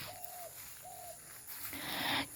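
Drongo birds chirping along gravel and sand nature paths: two short whistled calls in a row, then a brief louder rustling burst, heard fairly close against a quiet outdoor background.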